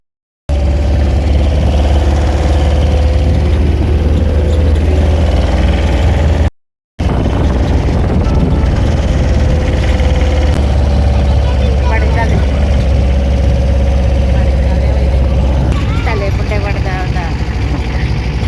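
An auto rickshaw engine idling close by, a steady loud low rumble and putter that runs almost continuously, broken once by a brief cut, with a faint voice underneath.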